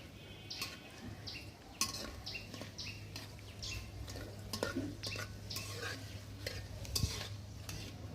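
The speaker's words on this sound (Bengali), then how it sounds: "মশলাগুলো একটু ভেজে নেব।" Whole spices, bay leaf, cardamom, cinnamon, cloves and black peppercorns, frying in hot oil in a pan, with a utensil stirring, scraping and clinking against the metal over a low steady hum and a soft crackle.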